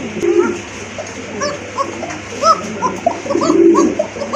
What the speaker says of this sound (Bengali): যখনই চেষ্টা করে তখনই কিন্তু ডাকে মাশাআল্লাহ, অসম্ভব ভালো একটা কবুতর